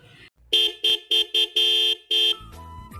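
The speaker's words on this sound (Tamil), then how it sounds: "வெளியே இருந்து ஹார்ன் சவுண்ட் தான் கேட்குது" A car horn honks six times in quick succession, loud and close, followed by a lower tone at the end.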